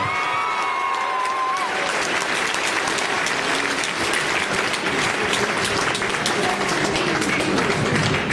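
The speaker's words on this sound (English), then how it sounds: "One more big round of applause." A crowd at a kickboxing fight event applauds and cheers after a five-round bout goes to a decision. The applause is loud and sustained throughout, with a crowd murmur underneath.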